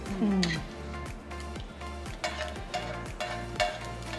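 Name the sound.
frying seasoning in pan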